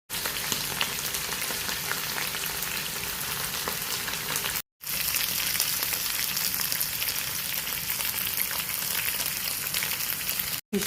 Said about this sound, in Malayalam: ഫിഷ് ഫ്രൈ റെഡി ആയിട്ടുണ്ട്.